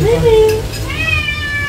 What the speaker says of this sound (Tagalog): Bakit daw laging umiiyak ang mga pusa?